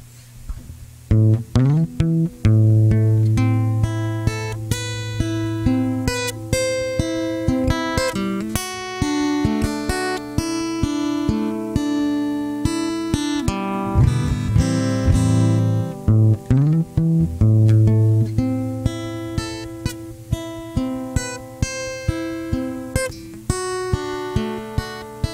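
An acoustic guitar is strummed and picked alone in an original song idea at a coffee house live stream, steady chords with sustained ringing notes and no voices throughout.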